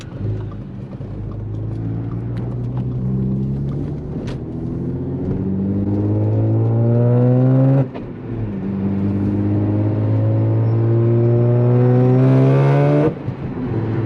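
An Audi S4 pulls hard at a little over quarter throttle, engine note rising steadily through one gear, a brief dip at the shift, then climbing again loud and close with no talking.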